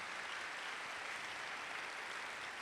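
Church congregation applauding in a steady, dense burst of clapping that holds at an even level for a few seconds, with no voices over it.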